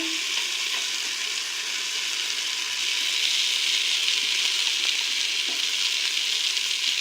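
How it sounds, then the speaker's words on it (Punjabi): Rice and carrots roast in a pan for sweet jaggery rice, a steady close sizzle of frying with faint scraping of stirring throughout, no talk. "ਆਪਾਂ ਇਹ ਅੱਧਾ ਕੁ ਮਿੰਟ 1 ਮਿੰਟ ਚਾਵਲਾਂ ਨੂੰ ਵੀ ਅੱਧਾ ਭੁੰਨ ਲਿਆ ਏ ਤੇ ਹੁਣ ਜੀ ਆਪਾਂ ਜਿਹੜੀਆਂ ਆਪਣੀਆਂ ਗਾਜਰਾਂ ਲਈਆਂ ਨੇ ਉਹ ਵੀ ਪਾ ਦਾਂਗੇ ਇਹਦੇ ਵਿੱਚ"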